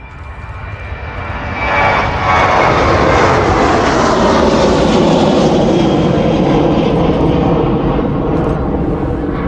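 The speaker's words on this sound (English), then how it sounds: "A jet 2 though making its way down towards us now." A Jet2 jet airliner passes near East Midlands Airport, its engine roar swelling after about two seconds into a loud, steady broadband rumble that holds through the rest of the clip, with no talk over it.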